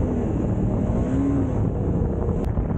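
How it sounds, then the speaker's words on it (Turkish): Steady wind roaring and buffeting the microphone in rain, a continuous broadband rush with low rumble throughout and no voices. "Rüzgar var, yağmur var."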